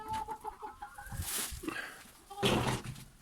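Several chickens in a coop cluck and squawk close by, with a louder burst of calls near the end; no talking.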